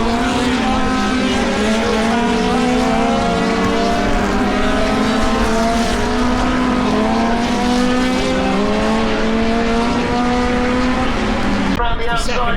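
Race cars scream past at Silverstone circuit in a continuous loud engine roar with rising and falling pitch as they pass, while someone talks under the noise and engine pitch shifts throughout.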